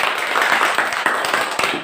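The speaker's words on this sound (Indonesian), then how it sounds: "Tepuk tangan dulu untuk Lisa." A classroom of pupils clapping for a classmate who has just answered about long and short rhythm patterns in a song; steady, fairly close clapping with a few sharper accents, lasting a couple of seconds.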